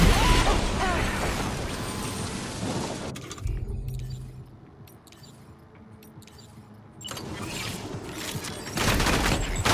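Gunfire in Death Stranding 2: On the Beach, loud bursts of shots and crashing impacts at the start, a quieter lull in the middle, then heavy firing again toward the end.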